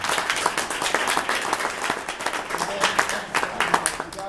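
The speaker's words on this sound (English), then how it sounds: "So just a real quick round of applause for the students." An audience claps for students at a rowing fundraiser check presentation, a dense, lively patter of hands that swells and dips slightly, with a bit of voice mixed in.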